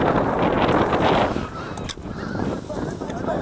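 Wild geese honk during a goose hunt, a loud, dense flock chorus of overlapping calls close by, thinning slightly partway through, with wind buffeting the microphone throughout.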